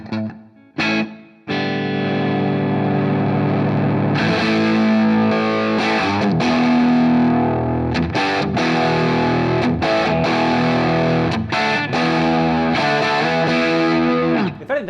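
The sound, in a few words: electric guitar through SoloDallas Schaffer Replica Classic pedal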